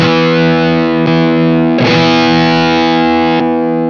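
An electric guitar through an OCD overdrive pedal rings out heavy, gritty overdriven chords, loud and sustained, with a few fresh strums cutting in over the ringing notes.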